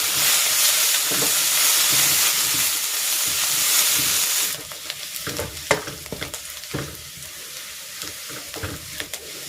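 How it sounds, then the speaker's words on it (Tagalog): Onions sautéing with garlic in a pan for Bicol-style pancit bato: a loud, dense frying sizzle that suddenly drops to a quieter crackle, with scattered clinks and scrapes from stirring. "Igigisa ko na rin dito itong sibuyas."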